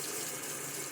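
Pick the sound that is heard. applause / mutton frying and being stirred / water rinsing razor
water rinsing razor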